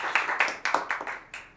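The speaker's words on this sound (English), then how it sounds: "a massive round of applause for Josh" An audience at a New York work event claps for Josh Bersin. The applause comes as close, fairly sparse bursts of hand claps that fade out quickly.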